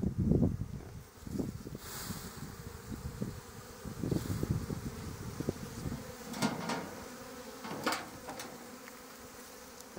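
Honey bees buzz in a steady, fairly close drone at an open hive during a brood chamber inspection, with soft rustles and knocks of handling throughout.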